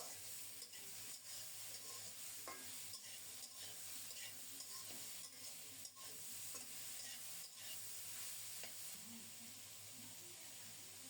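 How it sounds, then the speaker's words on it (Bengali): Rohu fish curry ingredients with ridge gourd and potato being stirred and sautéed in a pan, a faint, steady sizzle carrying soft repeated scrapes of the spoon throughout. "লবণ দেওয়ার আগে কিছুক্ষণ নেড়েচেড়ে কষিয়ে নিচ্ছি"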